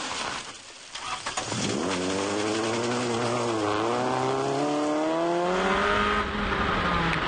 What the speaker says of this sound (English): Tipperary's James Dunphy had fun sliding his Honda Civic around the stages and took the Class 2 win for his efforts